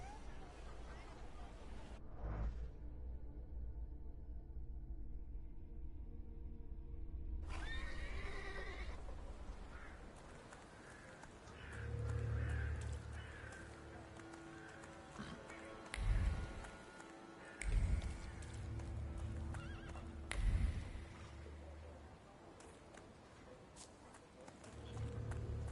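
A horse neighs and whinnies during a ride in the video game The Thaumaturge, with hooves thudding and running sounds, and people talking in the background.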